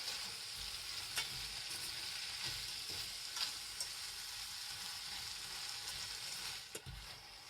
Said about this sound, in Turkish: Şeker çözülene kadar hafifçe karıştırıyoruz.